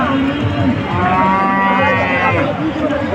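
A Friesian or crossbred cow moos loudly and close by at the Dhap cattle market in Bogura. The single long, low moo runs for about three seconds over steady market background noise.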